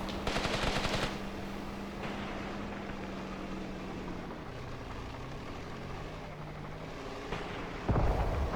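Gunfire in Graviteam Tactics, a rapid rattling burst at the start and another near the end, set over a constant low rumble of distant battle and engine noise.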